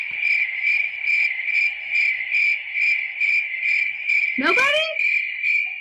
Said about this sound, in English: Why am I only hearing crickets?